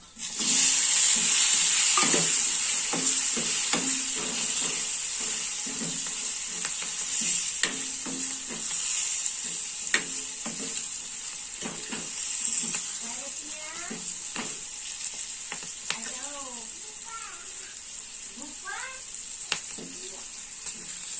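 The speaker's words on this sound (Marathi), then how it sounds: "शेंगा अशा छान मसाल्यामध्ये परतल्या आहेत" Beans being stirred and sautéed in a fried onion-garlic masala, a steady hiss of sizzling oil with repeated scraping stirs of a spoon against the pan, under someone speaking.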